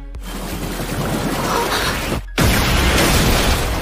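Magic explosion in the anime Mushoku Tensei, a loud roaring blast that runs for about two seconds, breaks off in a brief silence, then returns with a second heavy burst and sustained rumble.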